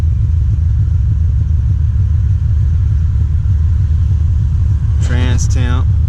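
A car engine idles with its electric cooling fan running, a steady close low rumble and whir throughout, with a brief high squeal or chirp near the end.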